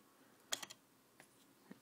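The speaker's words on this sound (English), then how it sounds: "now I'm going to unscrew these 4 screws" Four screws being unscrewed from an iBook G4 laptop with its keyboard removed, heard as a few faint, sharp clicks and scrapes spaced apart in a quiet room.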